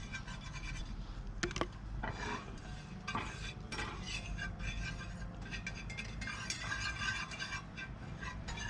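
Stirring flour into melted butter in a pan at a camp stove, with soft repeated scraping and clinking of a utensil against metal over a quiet sizzle and low background rumble.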